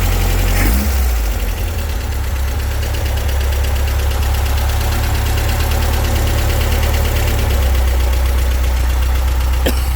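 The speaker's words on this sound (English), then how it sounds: "You can see that this engine's been running really nicely. I'm just trying to give it some heat cycles." A supercharged dune buggy engine idles steadily while being heat cycled, a loud, deep, continuous rumble with a low throb throughout and a faint click near the start and end, with no talk.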